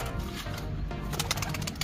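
Pigeons at a racing loft in Bulacan flutter and coo; soft wingbeats and cooing ride over a steady low outdoor hum, with quick flapping bursts near the end.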